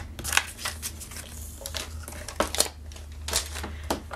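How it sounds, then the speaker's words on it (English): Scissors trimming gold envelope liner paper for a paper craft card kit, several crisp snips spaced about a second apart, close and clear over a low steady background hum. "I'm going to trim also the gold envelope liner to 2 inches."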